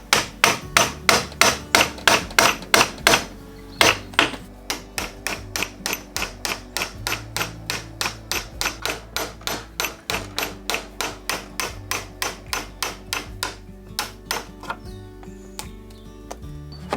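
Steady hammer blows ring out during the rebuild of an abandoned stone farmhouse: dozens of sharp, evenly spaced strikes over about seventeen seconds, loud and close, with a brief pause partway through.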